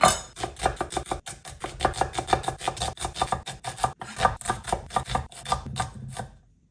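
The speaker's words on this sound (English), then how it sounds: "I'm gonna chop some things up" Quick, steady knife chops through red onions on a cutting board, close and crisp, a rapid rhythmic series of sharp taps that stops near the end.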